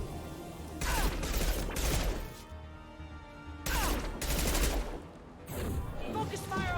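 Gunfire from a firefight in the video game Mass Effect 2, loud bursts in two or three volleys separated by quieter moments of game ambience.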